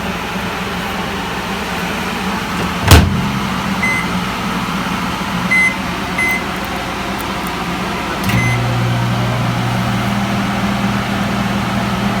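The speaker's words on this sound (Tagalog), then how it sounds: "Magma-microwave ako ng edamame." A microwave oven heating a snack of edamame gives a steady low hum, with a short click or beep near the three-second mark and the hum deepening at about eight seconds, continuing with no voices.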